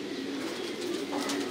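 Pigeons in a Thai-style pigeon coop make a steady low cooing murmur that runs continuously, like a crowded flock heard up close with no talking.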